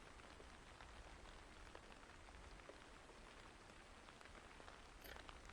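Steady rain falls as a soft, even patter, faint and constant throughout, with no voices.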